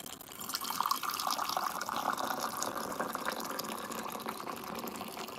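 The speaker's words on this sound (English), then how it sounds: "You just put this here and you push the button and you can dispense." Hot water streams from a push-button electric hot water pot into a vessel, a steady, close, continuous pour with a filling gurgle and light splashing, without speech.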